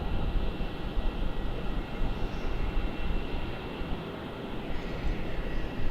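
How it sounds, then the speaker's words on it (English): A Jetstar Airbus A321 airliner, an older one, comes inbound from Sydney at Melbourne Airport as a steady, fairly loud low rumble of engine and wind noise with no talk. "Jetstar here. Yep, 5170 inbound from Sydney. Original A321."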